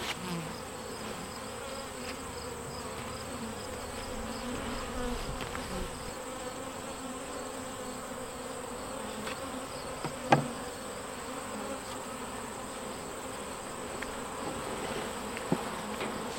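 Honey bees swarm around an opened hive frame loaded with uncapped honey, a dense steady buzzing hum filling the whole recording at close range, with a couple of faint knocks and no talking.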